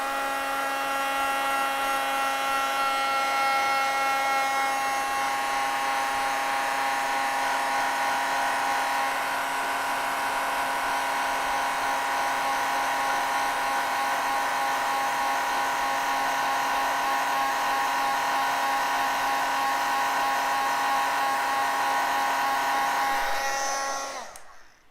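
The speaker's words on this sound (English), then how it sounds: "I better heat emboss this before it goes away." A heat embossing tool blows hot air for about 25 seconds in a steady, close whirring drone with a high motor whine, loud and unbroken until it switches off at the end, with no talking.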